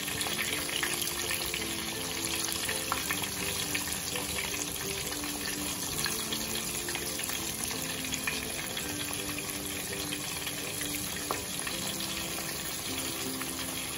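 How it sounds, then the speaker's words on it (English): Jamaican escovitch fish fries in oil in a pot that is a bit small for it, giving a steady, close, loud sizzle and crackle that runs unbroken throughout. "leave this to fry on each side for about 5 minutes or so"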